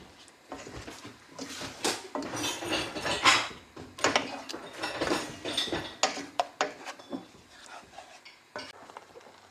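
Sambal is stirred in a pot for a Malaysian nasi kerabu dish, with a spoon scraping and clinking against the pot in irregular bursts, close and fairly loud, and no talk.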